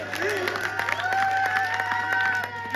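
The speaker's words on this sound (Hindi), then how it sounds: "जोरदार ताली बजा दो सारे लोग" Audience clapping at a Hindi comic poetry recital, scattered claps running steadily beneath a voice that keeps talking and holding long drawn-out tones over it.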